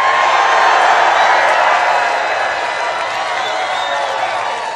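A large political rally crowd roars with continuous loud cheering and whoops, a dense wash of voices holding steady throughout with no single speaker standing out.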